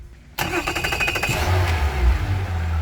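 A Mercury V6/V8 outboard engine cranks with a rapid stuttering starter sound and catches, settling into a loud, close, rumbling idle that holds steady to the end.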